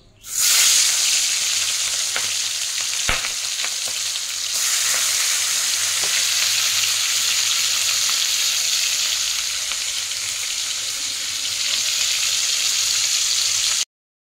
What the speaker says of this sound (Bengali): দেখো চিংড়ি মাছগুলো নুন হলুদ মাখিয়ে নিয়েছি, এবারে এই তেলেই আমি ভেজে নেব।